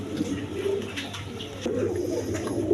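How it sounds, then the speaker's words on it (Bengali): A pair of original Indian Lotan pigeons coos softly and repeatedly up close, low throaty calls rolling on against a quiet background hum. "এখানে এক পেয়ার লোটন কবুতর আছে অরিজিনাল ইন্ডিয়ান লোটন কবুতর"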